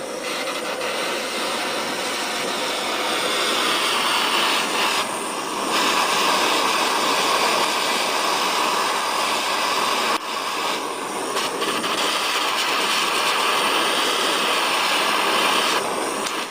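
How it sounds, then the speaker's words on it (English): Gas burner flame blasting while heating lead weights, a loud, steady roaring hiss close by, briefly dipping twice before roaring on. "Grab it with forceps, clip it on, give it a blast with the old burner."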